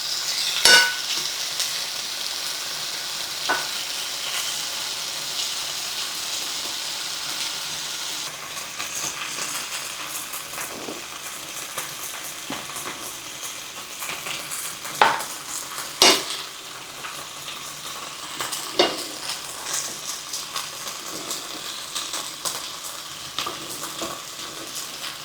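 Bacon spread across a very hot skillet sizzles and fries in a steady hissing wash, with occasional sharp pops and scrapes from a utensil moving the strips around; close and continuous, no talking.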